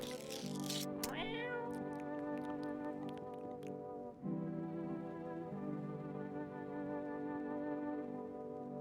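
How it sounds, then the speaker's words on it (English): A cat in the video game No, I'm Not a Human meows repeatedly over a steady droning background hum, several drawn-out, fairly loud calls close by, with a brief pause near the middle. "Pet the cat."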